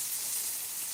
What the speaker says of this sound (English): They're frying again.